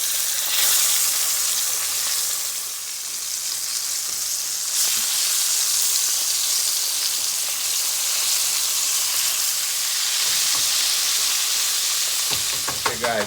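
Jamaican butterfish fries in very hot oil in a pan, a loud, continuous close sizzle with crackling bursts and occasional scraping, no talking.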